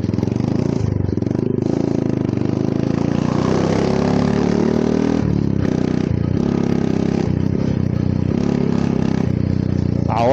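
A fully modified Yamaha motorcycle engine runs loud and close, with a rough, clattering, continuous roar that swells and dips as it is revved, filling the whole stretch without a break.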